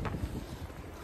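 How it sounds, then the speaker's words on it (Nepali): Wind blowing outdoors in a town street, a steady rumbling buffet across the microphone for about a second, loud and close, with no other sounds standing out. "हावा पनि चलिराखेछ"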